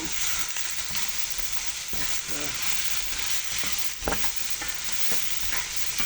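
Melon skin cooking in curry in a pan, a steady loud frying sizzle with scraping and stirring strokes of a utensil throughout.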